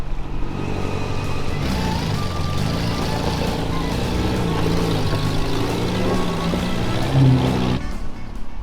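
A 1983 Toyota Trekker climbs a dirt hill in locked four-wheel drive, its engine droning steadily and straining under load for several seconds, with the pitch rising and falling as it works up the slope.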